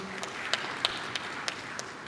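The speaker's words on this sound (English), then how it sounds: "Can we clap for TCU?" A handful of scattered, separate claps ring out from the audience at a university partnership forum, faint and uneven over a quiet room murmur.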